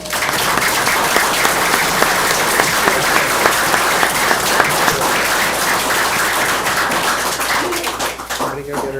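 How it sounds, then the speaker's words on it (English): A round of applause at a county board of education meeting, loud, dense clapping from the room sustained throughout and tapering slightly at the end. "Please give a round of applause for Miss Ann Sinkbell."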